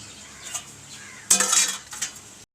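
Metal pot lidded over a simmering fish curry with ground spice paste and water, giving a few soft clinks and a louder clatter of metal as the lid settles, with no talk.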